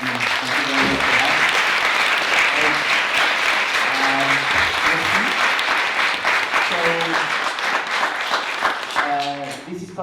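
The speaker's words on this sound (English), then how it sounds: "I think we can applaud our lovely panel." An audience at a Night of Ideas event applauds a panel, loud, sustained clapping filling the room while a few voices speak and call out over it near the end.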